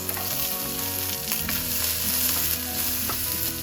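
Chopped garlic, ginger and onions fry in a pan of oil, a steady close sizzle running throughout with occasional stirring scrapes, loud and alone without any voices.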